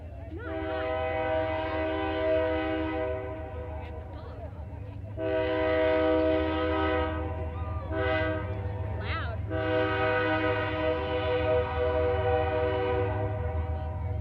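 A train rumbles past with a loud, sustained horn blowing in several long blasts over a steady low rolling noise.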